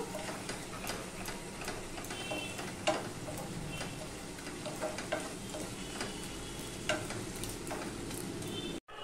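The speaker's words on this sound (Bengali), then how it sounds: "এবার আমি ভালো করে কষিয়ে নেব।" Chickpea masala for chana masala stirred and sautéed in a pan, a steady low sizzle with scattered spoon scrapes and clicks throughout, fairly quiet and continuous with no talking.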